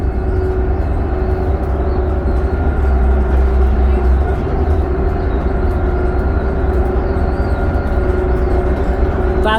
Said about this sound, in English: you're in 3rd right now and you hear the engine go